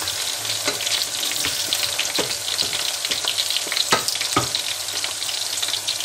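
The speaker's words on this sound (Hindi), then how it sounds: "और इनको फ्राई करने देंगे।" Two green chillies frying in oil with browned onions for bhindi masala, a continuous bright sizzle with intermittent stirring scrapes, close and fairly loud, no voices.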